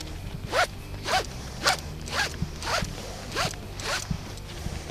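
Ratchet strap webbing is pulled through the ratchet buckle in about eight quick rasping strokes, evenly spaced and close, with little else around.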